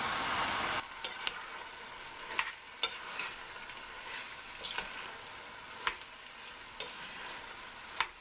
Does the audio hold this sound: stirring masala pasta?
yes